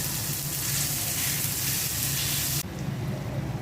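Potatoes and papaya tipped into a hot pan crackle in a loud, steady sizzle, close up and unbroken, with no voices.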